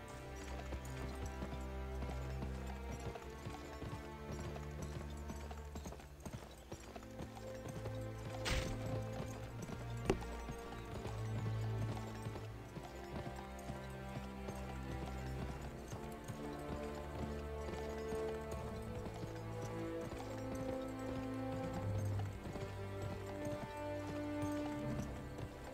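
Horse hooves clip-clop steadily in the Western video game Gun as a horse is taken from a barn, a continuous rhythmic trot over a bed of background music.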